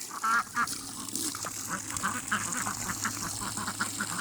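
Female ducks in a farmyard flock with a single drake nearby, quacking in quick repeated bursts, loud and close at the start and then a steady chatter of calls.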